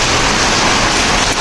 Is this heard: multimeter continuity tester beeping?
no